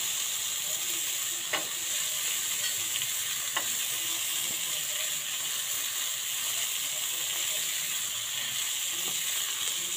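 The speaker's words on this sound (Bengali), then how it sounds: "তো ফুলকপিটা, গাজরটা মোটামুটি দেখুন ভাজা ভাজা হয়ে এসছে।" Cauliflower and carrot pieces fry in a pan as tomato, onion and green chili go in, giving a steady, close sizzle throughout with a few sharp stirring clicks and scrapes.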